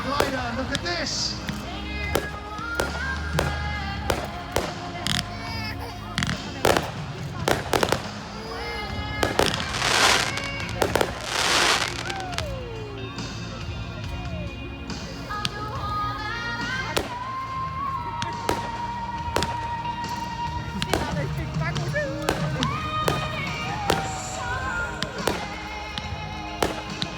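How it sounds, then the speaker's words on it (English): Pyrotechnic fireworks stream from the wingtips of a full-size glider at a night airshow at Weston Park, crackling and popping in repeated bursts over about half a minute while a commentator talks over the PA. "the fireworks streaming from the leading edge of his wingtips to the right hand side"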